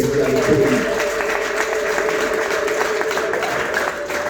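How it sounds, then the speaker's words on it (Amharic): A church congregation claps together in sustained, dense applause that stays loud and steady throughout, with a voice faintly heard over it at the start. "አጨብጭቡለት።"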